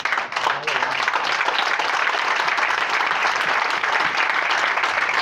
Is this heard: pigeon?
no